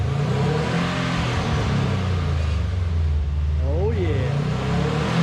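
A Subaru Impreza WRX STI engine running close by with a steady low rumble and one brief rising rev near the end, while a person speaks over it.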